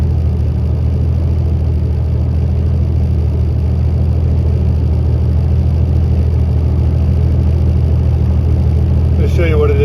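A Freightliner Cascadia semi truck with a DD15 diesel engine, slow to build air pressure, revs steadily with a loud, constant mid-range rumble for several seconds, with a brief hiss near the end.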